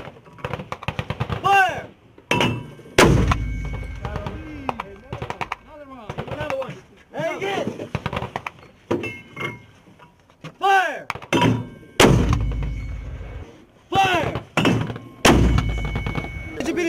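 A 120mm military mortar fires several sharp, heavy booms, spaced several seconds apart, with shouted firing commands between the blasts.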